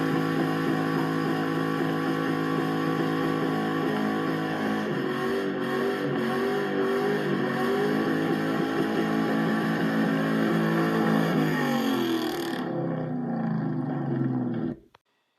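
A 2004 Mustang GT with recent exhaust work and small pinhole leaks roars through a sustained, loud burnout on New Year's, its engine holding a steady high growl with rising revs before cutting off abruptly at the end.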